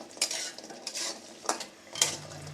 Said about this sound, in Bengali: বড়ি ভাজার সময় সয়াবিন তেল দিয়ে ভাজতেছি আমি, সাদা তেল